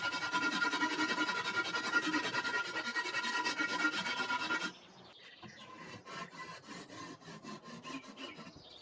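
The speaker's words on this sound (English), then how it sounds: "I now remove protruding material with a saw and rasp" A rasp files steadily across an aerated concrete sculpture in close, rough rhythmic strokes, followed by quieter, intermittent scraping and rubbing.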